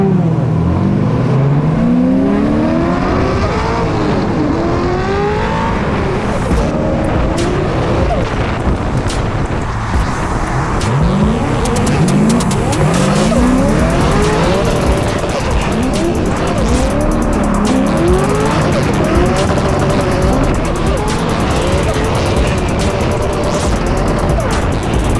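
Drift competition car on track with a loud engine revving hard and tires squealing in repeated long skids, sliding pitch sweeps layered over constant roar, heard from close with some voices in the background.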